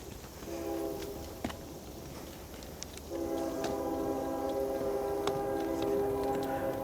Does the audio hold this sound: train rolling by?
yes